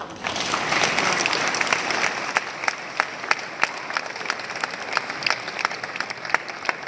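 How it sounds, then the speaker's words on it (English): An audience at a secondary school awards ceremony applauds in a sustained wash of clapping, with a few sharper nearby claps popping out above the crowd. "And one big round of applause."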